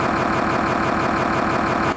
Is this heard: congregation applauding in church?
no